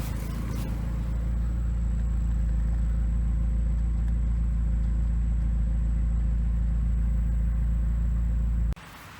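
A warmed-up 1989 Porsche 944 turbo engine runs at a steady idle, a loud, continuous low rumble with a faint high whine, close by, cutting off abruptly near the end.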